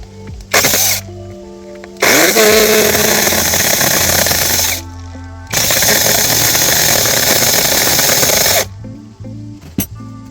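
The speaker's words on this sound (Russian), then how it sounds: "Вот так вот работает пилочка." A small power saw cuts through a log about 5 cm thick in a countryside setting, in three loud, close bursts of buzzing, rasping cutting separated by short idle pauses.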